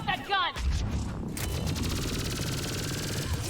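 A mounted gun fires a rapid, sustained burst in the video game Mass Effect 3, its rattling shots continuing behind brief shouted dialogue and a burst of battlefield noise at the start.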